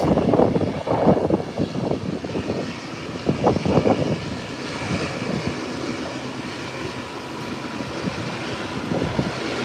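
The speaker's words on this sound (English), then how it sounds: "ATR is heading out." An ATR turboprop airliner taxis toward the runway, a steady propeller-and-turbine roar heard from outside with buffeting wind noise on the microphone and louder gusty swells early on, continuous and unaccompanied by talk.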